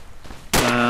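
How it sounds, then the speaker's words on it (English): Gunfire in a video game: a sudden loud blast about halfway through, followed by a sustained ringing burst, close and dominant after a quieter lead-in. "they're shooting at me"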